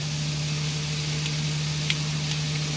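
Eggs sizzle in a frying pan inside a caravan for a fried breakfast, a steady close hiss with a constant low hum underneath and a few faint clicks.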